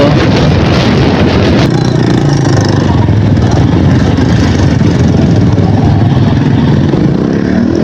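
A Yamaha YTX125 motorcycle engine drones loudly and continuously while riding on a provincial road, a steady low rumble with wind rush that stays close throughout.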